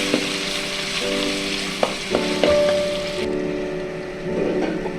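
Ginger garlic paste fries in hot oil for a crab fry, giving a steady close sizzle with occasional sharp stirring knocks, over a faint constant background hum.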